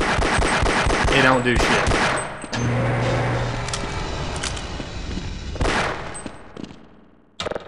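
Rapid automatic gunfire bursts in the Half-Life: Decay co-op game as players shoot at explosive barrels, loud and dense, with a brief spoken remark and a final short burst near the end.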